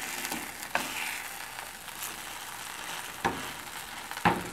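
Arepas de yuca frying in a skillet give a steady soft sizzle with a few sharp crackles and pops scattered through it, fairly quiet and close, with no voices.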